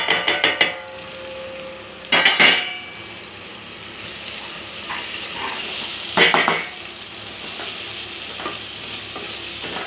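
Masala with chilli powder, coriander powder, cinnamon and salt is sautéed in a pan for egg biryani, with steady sizzling frying and a few bursts of scraping, clanging stirring near the mic. No one speaks.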